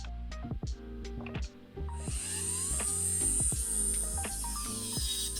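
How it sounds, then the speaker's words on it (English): An electric nail file buffs an acrylic nail, starting with a few short bursts and then settling into a continuous high-pitched whine that holds steady, close and moderately loud, with no talking. "What I'm going to do now is file this nail into shape. First of all, I'm going to use an electric file."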